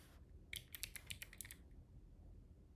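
Quick, light key clicks on a computer keyboard form a short burst of about a dozen taps over a second, then stop, leaving a low room hum with no talking.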